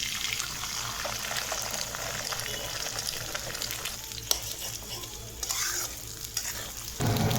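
Three eggs are cracked into a space among fried potatoes, onion and chilli in a home frying pan. A steady sizzle carries scattered stirring scrapes, a sharp tap midway and a louder surge of frying at the end.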